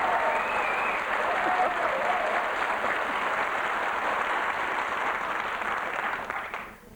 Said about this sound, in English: all that applause for your obvious radiant personality